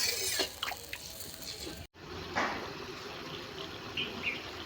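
A mustard pabda fish gravy comes to a boil in the pan, with soft bubbling and liquid gurgles, a brief silent gap midway, then steady gentle bubbling at moderate level with no talk.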